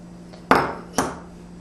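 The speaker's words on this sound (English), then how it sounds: "we're going to use my handy dandy Philadelphia spatula. And we're going to add the corn." Corn being added to a mixing bowl with a spatula for a garlicky cheesy cornbread bake, heard as two sharp scraping clatters against the bowl about half a second apart, close and fairly loud with a steady low hum beneath.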